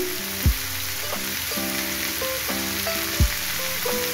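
Garlic and tomato paste frying in oil for a fish-head curry with potato and eggplant, a steady sizzle under background music with two sharp clinks.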